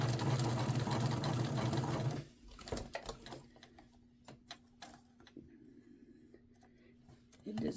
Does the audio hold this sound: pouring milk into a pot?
no